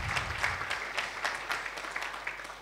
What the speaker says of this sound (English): put your hands together and give that lineup of amazing speakers a round of applause